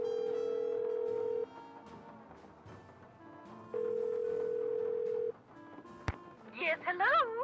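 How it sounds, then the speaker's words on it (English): A telephone number dialed in the Nancy Drew: Legend of the Crystal Skull game, held tones and short beeps followed by a rising ring or chirp sequence near the end, with game music underneath. "So what we can do is try to call the number."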